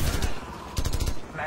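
Gunfire from Call of Duty 4: Modern Warfare, with a rapid run of loud close shots in the middle and more firing before and after, mixed with battlefield noise and voices talking.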